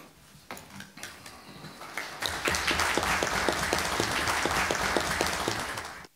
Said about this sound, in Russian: Я надеюсь, это аплодисменты всем тем, кто выступил с приветственными словами.